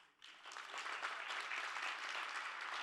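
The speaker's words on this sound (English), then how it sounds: "give yourselves a round of applause" Sustained applause from a crowd, rising quickly after a brief quiet start and holding steady and full.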